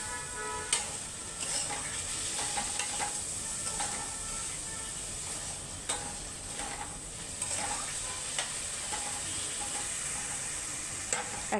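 Chopped vegetables with salt stir-fry in a pan for pav bhaji, a steady sizzle with repeated scraping and clinking spatula strokes at an irregular rhythm, close and without talk.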